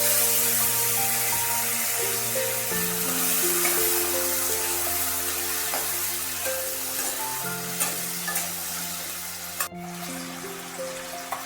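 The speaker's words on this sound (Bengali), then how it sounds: "এবার সেই আলুগুলো এই তেলের মধ্যে ফোড়ন দেওয়ার পর দিয়ে দিচ্ছি" Potato pieces frying in tempered oil in a pan, a loud steady sizzle lasting throughout, with occasional small clicks and one brief sharp knock near the end, alone without talk.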